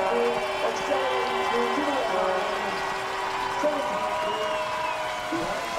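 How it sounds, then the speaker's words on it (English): Crowd applause and cheering for a skier at a Paralympic alpine skiing super combined race, a steady broad wash of clapping under continuous commentary. "The crowd giving him a big hand."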